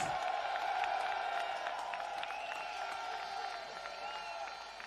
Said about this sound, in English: Give them a round of applause and respect.